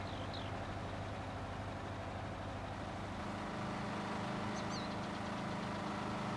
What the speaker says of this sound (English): looks like Mrs. RDAllen just got a new tractor